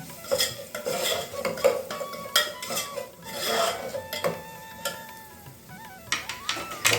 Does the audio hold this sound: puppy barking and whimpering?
no